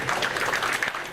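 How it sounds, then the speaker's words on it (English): About a hundred people from a school and athletics community clap together outside a courthouse, a steady, dense wash of applause with no pauses and no clear voices. "Outside of court, roughly 100 people from the school and athletics community clapped for Iwamoto"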